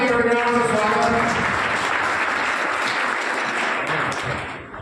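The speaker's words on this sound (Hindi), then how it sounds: "जोरदार तालियों की गड़गड़ाहट से स्वागत।" Thunderous applause from a crowded audience at a BJP party workers' conference in Sujangarh, dense and loud clapping sustained throughout before tapering slightly at the end, with a faint voice beneath it early on.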